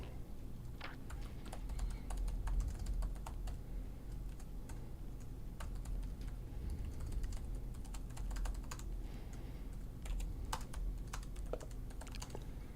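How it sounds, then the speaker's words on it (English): Quick, irregular clicking of keys on a computer keyboard, close and fairly loud, runs steadily over a low room hum with no talking. "Did you type loud?"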